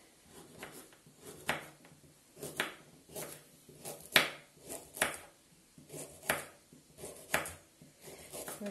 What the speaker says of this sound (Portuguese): Vou cortar a cenoura.